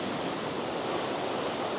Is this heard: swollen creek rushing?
yes